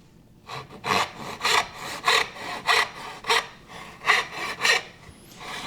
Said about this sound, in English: Put the saw right in the kerf.